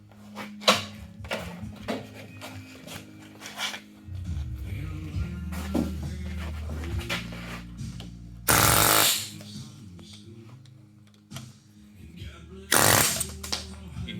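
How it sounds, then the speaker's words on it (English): Two short, loud bursts of an air hammer on a Super Duty Dana 60 front axle stand out over a steady low engine-like drone, with machinery noise and faint activity in a workshop throughout. "Push her the other way with an air hammer."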